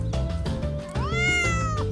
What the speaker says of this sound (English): Look, there are 2 cats.